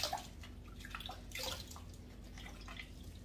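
Water rinses over orchid leaves, a steady splashing wash with a few drips, running continuously at moderate closeness.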